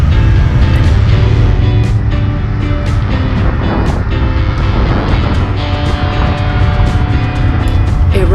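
Indian FTR 1200S motorcycle riding on a demo ride, a loud steady engine drone with rhythmic throbbing and wind rush, close and continuous throughout.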